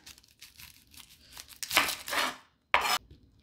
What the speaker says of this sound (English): I like to cut off the ends to start.